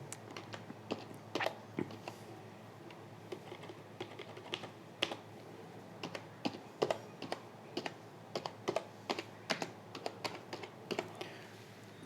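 Rapid typing on a computer keyboard, irregular bursts of crisp key clicks with short pauses between, close and clear, with no talking.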